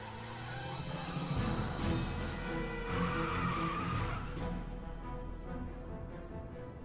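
A sports car in the Broken Sword: The Sleeping Dragon video game speeds past, a loud engine roar with skidding tires that swells and then fades over several seconds.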